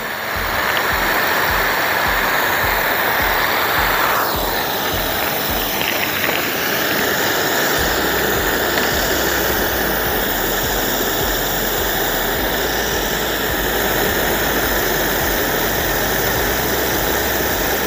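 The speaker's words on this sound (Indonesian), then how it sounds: "Jadi sprinklenya itu muter-muter kayak gitu ya" Rotating sprinklers water the grass pitches at Gelora Bung Tomo stadium, producing a continuous loud rushing spray with a low mechanical hum beneath it, steady throughout with no talking.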